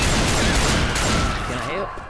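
Loud, dense volley of gunshots from the Left 4 Dead 2 video game, a continuous fusillade that tapers off near the end, with a voice mixed in.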